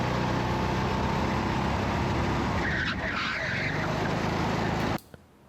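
A racing kart on the GRX track braking hard so the rear slides around a corner, tires skidding and squealing over the engine's buzz for several seconds before cutting off abruptly.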